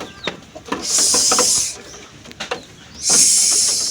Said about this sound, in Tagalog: Palalabasin natin sila mga kalapatids.